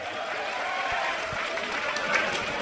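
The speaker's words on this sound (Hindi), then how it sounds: "उनके ग्राम जारी में एक दफे तालियों से स्वागत किया जाए।" A crowd at a wrestling dangal in Kharela village applauds, a steady, broad wash of many clapping hands held throughout, with a voice speaking over it.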